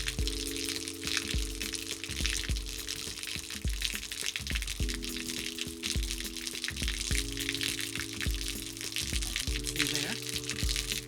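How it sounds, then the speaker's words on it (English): Water gushes steadily out of a fishing boat's live well through the pump-out valve, a constant splashing pour over a low pump hum that shifts pitch now and then. "you use your pump out valve, flip that on, and then water will come out"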